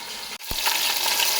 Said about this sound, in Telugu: ఇలా అల్లం వెల్లుల్లి పేస్ట్ కూడా పచ్చివాసం పోయేలాగా వేగించుకోవాలండి